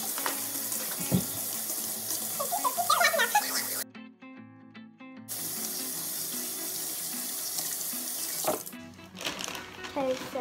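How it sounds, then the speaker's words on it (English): Tap water runs steadily into a sink while hands are washed, a continuous splashing flow that cuts off briefly and then resumes, with occasional squeaks and voices talking nearby. "So let's go wash our hands."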